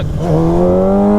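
A stunt motorcycle's engine idles low, holding a loud, steady, buzzing drone up close that settles slightly in pitch, with no voices over it.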